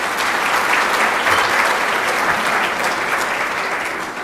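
An audience at a college convocation claps steadily and densely throughout, a sustained wash of applause with no talking over it.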